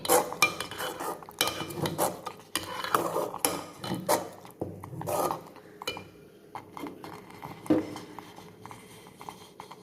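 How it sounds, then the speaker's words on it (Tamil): A ladle scrapes and knocks against a pot while sweet sakkarai pongal with jaggery is stirred, giving irregular clinks and scraping strokes throughout, fairly close and moderately loud. "வெள்ளம் போட்டு கிண்டும் போது கிண்டிடணும்"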